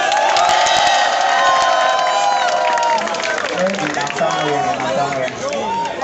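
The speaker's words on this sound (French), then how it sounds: "Applaudissez pour les gars ici." Lively crowd cheering and clapping for performers on a concert stage, with shouts and voices over loud music, a dense wash of noise throughout.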